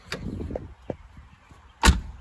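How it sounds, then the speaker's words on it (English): A car door shuts with one loud, solid slam near the end, after a fender repair that had left the door sagging. A few soft clicks and knocks come first, with no one talking. "see, even the door shut good on it still now"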